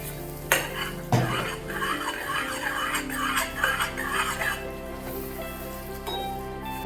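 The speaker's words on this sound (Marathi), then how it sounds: "तेल सुटेपर्यंत हो, भाजायचं आहे" Masala roasting in oil for misal pav: a continuous soft sizzle with scraping stirring strokes in a pan, opening with two distinct metallic knocks, fairly close and steady.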